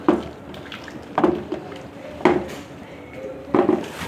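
Chicken is mixed with vinegar in a pot, with four distinct clinks and scrapes of a utensil against metal at roughly one-second intervals over a soft background.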